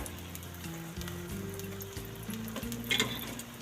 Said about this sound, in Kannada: ನಿಧಾನವಾಗಿ ತಿರುಗಿಸ್ತೀನಿ.